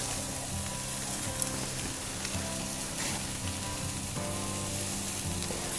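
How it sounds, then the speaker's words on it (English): A jalapeño-stuffed tri tip, already smoked, sears on a hot grill as its fat renders and burns off, giving a steady close crackling sizzle with scattered pops and a low background hum. "We want it to burn off a lot of that fat, as well as just kind of grill the outside and char it a little bit."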